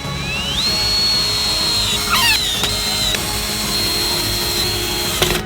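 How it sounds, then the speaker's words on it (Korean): A power drill driving screws into wide wooden boards on a woodworking stand, with a steady high motor whine that rises at the start, briefly drops and squeals as the load changes, then holds on, close and loud. "나사로 조립해주세요."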